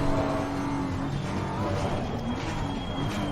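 A GT3 race car in a sim racing game drones steadily from inside the cockpit at moderate volume, with slight pitch changes as it accelerates through a race at Laguna, and other cars can be heard faintly.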